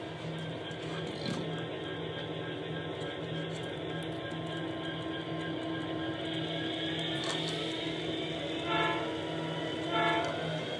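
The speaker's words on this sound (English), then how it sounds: "There's my short horn." A model train's DCC sound decoder gives a short horn blast over a running locomotive rumble and steady mechanical hum on a small L-shaped layout, with a few later horn-like tones near the end.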